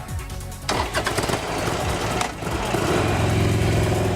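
A 2002 Buell XB9R sport motorcycle fires up with a sharp starter burst, then its engine settles into a loud, throbbing idle and revs up close by, alone without voices.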